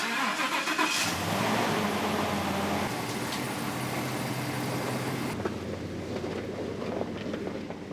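A truck engine is cranked and starts outside a shop, settling into a low steady idle, then drops away to quieter wind-buffeted ambience.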